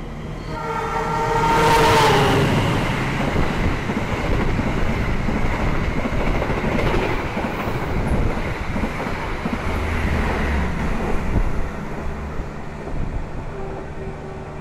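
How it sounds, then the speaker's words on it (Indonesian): An Argo Semeru express train speeds past close by, its horn blaring at the start before a long, loud rush of wheels and carriages, with wind buffeting the microphone throughout. "Itu barusan kereta Argo Semeru juga lewat di sini"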